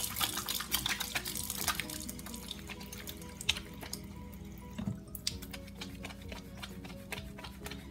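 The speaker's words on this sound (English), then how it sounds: "I thought I would show you all how it lathers" Wet, squelchy rubbing of a bar of homemade hot process lavender shea soap being lathered with water, with dripping and splashing, steady and close, no talk.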